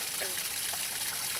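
Water pours steadily through a repaired pond spillway, a continuous close rushing wash with no break.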